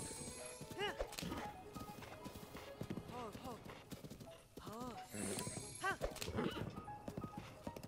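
Horse hooves clip-clop at a steady riding pace in The Legend of Zelda: Breath of the Wild, mixed with game sound effects and a whinny. Someone talks over it in Spanish.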